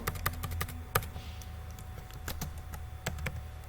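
A title being typed on a computer keyboard, a fast, close run of crisp key clicks with a few heavier strokes, quiet and alone without talk.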